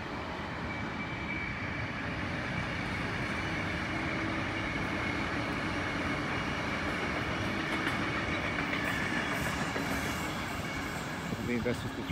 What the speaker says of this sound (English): I think that's just the train there.